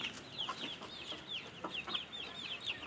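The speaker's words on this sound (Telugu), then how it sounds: "ఇవి అన్నీ మా కోళ్ళు" Chickens and small chicks on a farm keep up a steady stream of soft clucks and high peeping calls, near and continuous, with no voices.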